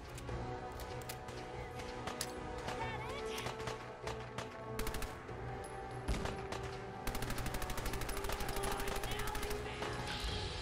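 Dense gunfire from a gun in Fallout 4, rapid sharp shots crackling nonstop and building to a fast machine-gun-like burst near the end, loud and close amid busy game sounds.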